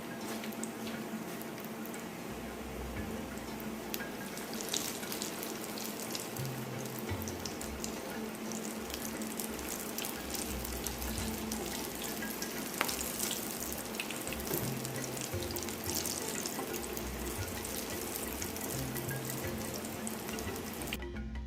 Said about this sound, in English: we're going to allow it to fry on one side, and then we're going to flip it